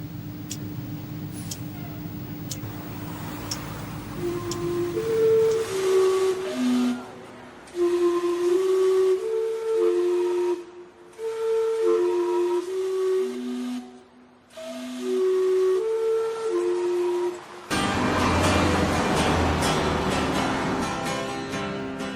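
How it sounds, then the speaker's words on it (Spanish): Vancouver's historic steam clock, the world's first, blows its whistle in a series of loud tonal notes over a steady steam hiss, playing a short chime melody, with traffic noise rising at the end. "Desde 1870, su silbido recuerda cada cuarto de hora el imparable paso del tiempo."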